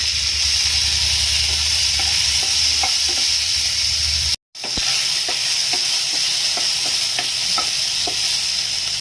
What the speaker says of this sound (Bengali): মশলাগুলো একটু ভেজে নেব।